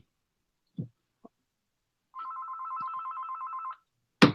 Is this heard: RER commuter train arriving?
no